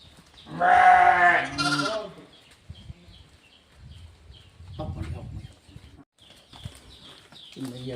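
A sheep, one of a pair with a white one, gives a loud wavering bleat close by, then quieter animal sounds and short bits of talk follow.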